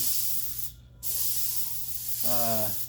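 An airbrush sprays paint for script lettering, a steady close hiss that cuts out briefly, then resumes, with a faint whir in the last moments.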